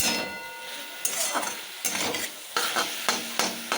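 Leafy greens (saag), still wet, fry in a pan with a soft sizzle while a spatula stirs them in repeated scraping strokes about every half second to second, close and moderately loud.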